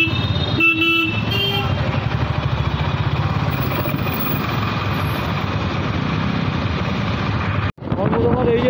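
Dense road traffic in a jam heard from a motorbike, a continuous engine and road rumble with wind buffeting, several short horn toots near the start, and a brief dropout near the end.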